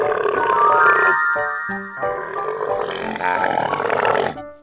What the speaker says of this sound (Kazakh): бұл жануар түйе деп аталады.